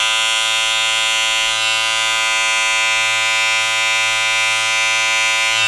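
Electric hair clippers buzz steadily and loudly, close up, while shaping an eyebrow design with the lever fully open, a continuous motor hum running without a break or any talk.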